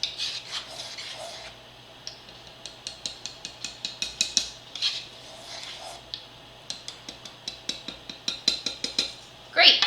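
A sifter holding flour, salt and baking powder is tapped repeatedly, giving a run of light, close clicks and knocks in an uneven rhythm, with some quiet gaps and a louder clatter at the end.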